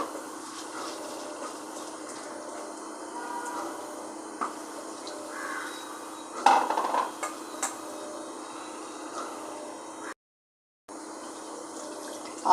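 Flattened rice (poha) being rinsed with clean water in a sieve for Gujarati kanda poha, a soft steady wash of water with faint clinks, one brief louder splash midway and a short silent gap near the end.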